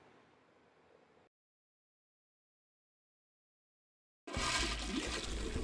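Toilet flushing with a loud rush of water that bursts in suddenly after a quiet gap, preceded by a faint hissing background.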